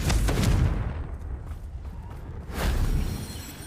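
A Confringo fire spell bursts in the Hogwarts Legacy video game, a loud booming blast at the start followed by rumbling and crackling, then a second heavy burst near the end, with no talking.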